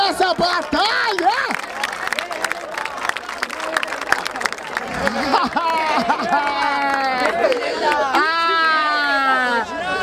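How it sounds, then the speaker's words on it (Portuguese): Crowd at a freestyle rap battle, the 124th Batalha da Aldeia, cheering and clapping loudly through an emcee's shouting voice, a dense, constant roar of applause and hubbub. "Palmas pra essa batalha!"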